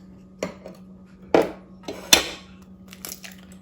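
Three eggs crack and drop into a mixing bowl for blueberry muffin mix, a few sharp close taps and clinks against the bowl spaced about a second apart over a low steady hum.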